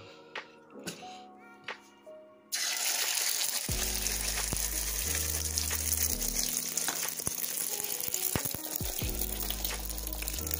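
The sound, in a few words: eggs frying in a hot skillet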